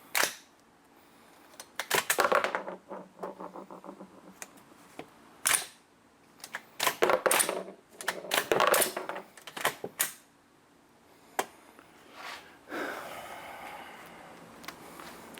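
Rounds cycled by hand through a USGI rifle magazine during a torture test: sharp metallic clacks and rattling bursts of the action come in irregular clusters, some quick rapid runs, separated by quiet gaps.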